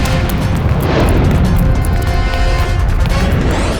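A gunshot goes off inside a room as a loud, heavy boom with a crashing, noisy wash that fills the whole few seconds at steady close volume.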